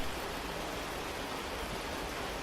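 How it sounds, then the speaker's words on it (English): Pouring rain in the survival video game Cataclysm DDA, a steady, dense hiss of rainfall that stays even and unbroken throughout, with no voices over it. "Pouring rain, as you can probably hear and see."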